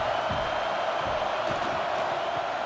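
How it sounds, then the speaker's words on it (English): Stadium crowd noise from a college football video game, Ohio State versus Michigan, heard as a dense, steady roar that fills the whole stretch without a break and without talk over it. "listen to this crowd noise. This stadium is vibrating."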